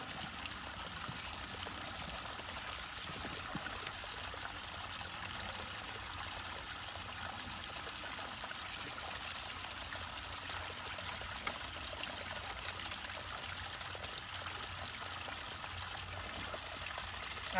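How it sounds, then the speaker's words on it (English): Water runs steadily through a gold prospecting setup, a constant broadband rush and trickle that stays even and close for the whole stretch, with no voices over it. "I'm gonna turn the water down and check it again."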